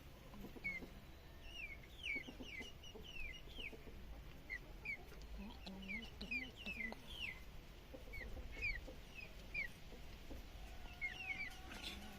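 A young chick of a hen chirps in repeated high peeps, fairly close, over low farmyard background noise with faint rustling, no talk.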